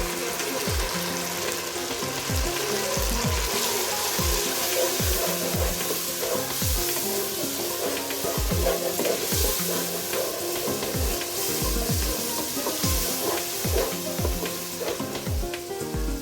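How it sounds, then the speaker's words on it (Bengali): Chicken roast masala with a spoon of sugar and a spice mixture sizzles steadily in a pan, stirred with regular scraping strokes of a spatula throughout, close and fairly loud with no talking. "এরপরে রাঁধুনি মিক্সচার দিয়ে সুন্দরভাবে নেড়েচেড়ে কষিয়ে নিই।"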